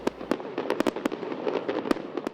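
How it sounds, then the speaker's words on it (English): Grand finale fireworks after a Cleveland Orchestra performance burst in a rapid, irregular string of sharp cracks and booms over a constant crackling rumble, loud and close, with no talk. "there were food trucks and the grand finale fireworks display"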